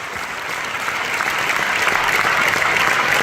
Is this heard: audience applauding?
yes